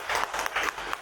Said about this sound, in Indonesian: Tepuk tangan untuk Manipa dong.